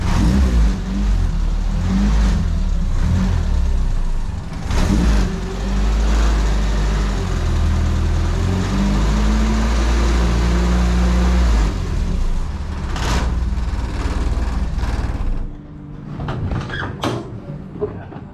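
A Renault R8 Proto fitted with a swapped 1397cc engine runs and revs close by with a throaty drone, rising and falling, broken by a few sharp knocks, before settling toward a quieter idle.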